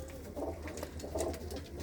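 Prized racing pigeons in a loft coo in soft, repeated low rolling bursts, several overlapping calls close by over a quiet background.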